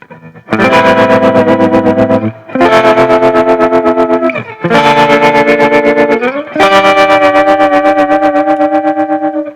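Heavily distorted, buzzy synth-like guitar amp tones from Ableton Live in four sustained loud phrases with short gaps, harsh and pulsing throughout.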